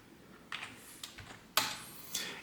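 A computer keyboard is typed on while the ifconfig command is entered, with a few sparse, separate keystrokes heard close and clear against a quiet room.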